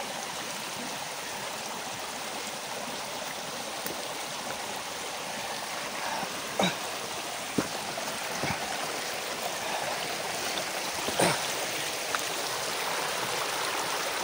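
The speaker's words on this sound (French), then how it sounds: "Le ruisseau de l'église perdue" The stream of the lost church, usually dry, flows steadily in a continuous close rush of water with faint gurgles, broken by a few brief soft knocks.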